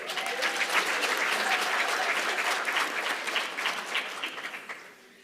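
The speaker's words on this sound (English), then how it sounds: "A round of applause for them," An audience at an Africa Engineering Conference claps for the Basotho people, a full, dense round of applause that holds steady and then thins out and fades to quiet near the end, without speech.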